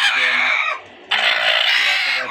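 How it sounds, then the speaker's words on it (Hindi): Chickens on a desi poultry farm in Punjab cluck and crow loudly and close by, with a short quiet gap in the middle. There is no talking. "तीन चार मुर्गी हैं जो खुराक हैं, इधर बैठी हुई हैं।"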